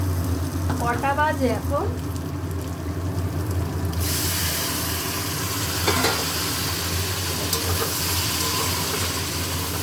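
Potatoes and soybean chunks fry and get stirred through a spice masala in a pan, a steady sizzle with occasional scraping stirs, while a voice speaks briefly early on.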